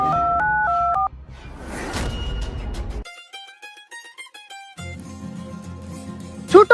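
Telephone keypad tones beep in quick succession, several distinct dialing tones alone at moderate loudness, followed by a burst of noisy music and more electronic chimes.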